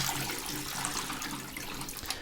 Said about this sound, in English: We want to keep it with water a little bit, okay? So we're going to open the water.